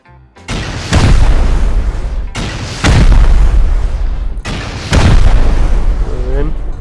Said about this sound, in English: I reckon we just try rocket here then